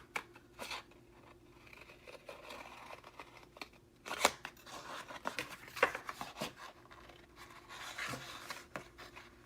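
Scissors cut paper for a watercolor collage, giving soft, irregular snips and rustles at close range, with a few sharper cuts and paper handling noises in between, fairly quiet throughout.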